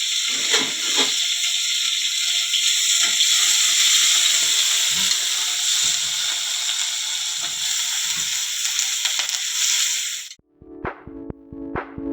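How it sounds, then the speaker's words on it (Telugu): Onions and curry leaves fry in a pan for an ivy gourd curry, giving a loud, continuous sizzle for about ten seconds that then cuts off, followed by a few sharp clattering clicks. "ఉల్లిగడ్డ వేసిన తర్వాత కరివేపాకు వేసి ఎట్లయినా మంచిగా ఉడుకుతాయి ఉల్లిగడ్డలు."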